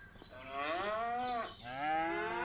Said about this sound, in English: more of a complement of cows.